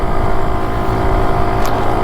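A BSA Bantam motorcycle engine running steadily close to the microphone, a continuous buzzing drone with no pauses.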